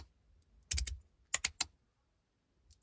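A newly arrived fidget toy with a Teflon-type click gives crisp, close clicks in two quick bursts of three, then a faint lone click, over near silence.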